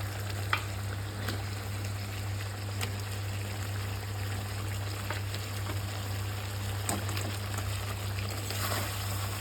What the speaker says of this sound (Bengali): এখন আমি এর মধ্যে যে ভেজে রাখা মাছগুলো একটা একটা করে এভাবে দিয়ে দেবো